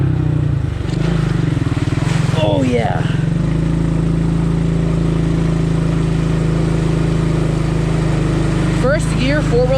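A four-wheel-drive ATV four-wheeler grinds through a mud trail, its engine droning steadily and loud throughout, with brief squeaks and splashy bursts near the start and end.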